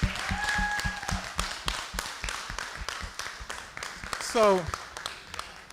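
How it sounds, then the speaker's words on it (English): Audience applause for Dr. Shabnam Balali at a small mental health session, heard as a run of sharp, evenly spaced claps beneath a voice talking over them. "How about a round of applause for Dr. Shatnam?"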